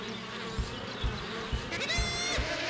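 Cartoon bees buzz steadily in the Winnie the Pooh's Rumbly Tumbly Adventure video game, a constant droning hum under soft rhythmic thumps from the game.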